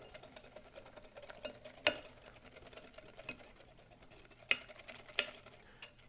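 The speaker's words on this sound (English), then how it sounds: "I just kind of run my whisk around. But you want to whisk it till it's nice and smooth" A whisk runs through Dutch baby batter in a bowl, giving soft, irregular stirring and scraping with a few sharper clinks against the side, quiet and close.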